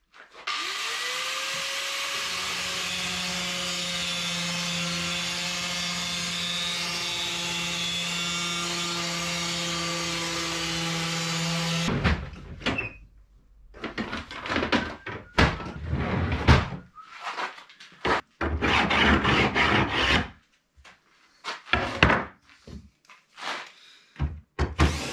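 Power sanding of a homemade magnetic knife holder for a kitchen starts with a steady, loud motor whine for about twelve seconds. Then come irregular bursts of scraping and knocking with short pauses between them.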